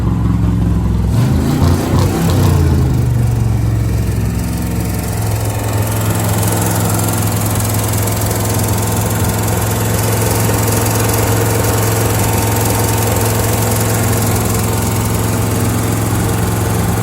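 A long-unused car engine runs steadily after its first start in 16 years, giving a loud, close, continuous rumbling idle with some rough revving at the beginning.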